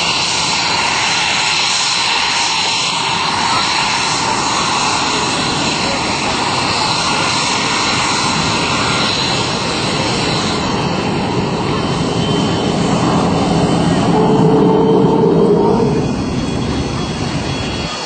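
An F-86 Sabre jet and a P-51 Mustang fly together at an airshow, giving a loud, sustained engine roar and rush. The sound swells a little toward the end and is heard without talk.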